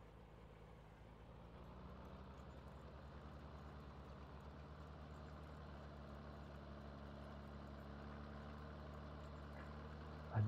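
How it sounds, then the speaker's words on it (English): An older Valtra tractor engine runs at a steady, low idle-like rumble, continuous and moderately distant, with a brief knock at the very end. "I do like the sound of the Valtra. This older sound of tractors."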